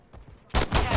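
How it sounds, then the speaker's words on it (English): A sudden burst of loud gunfire erupts after a quiet moment in the Modern Warfare III video game, close and sharp, filling the second half. "Getting shot at!"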